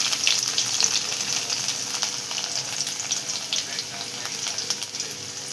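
Mustard seeds, cumin and garlic fry in hot oil in a pan, giving a steady close sizzle with crackling pops and a light spattering hiss throughout.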